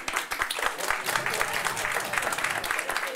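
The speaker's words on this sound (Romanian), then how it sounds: "Să aplaude." An audience at a stand-up comedy show bursts into dense, close clapping that holds at a steady level for several seconds, with crowd noise mixed in.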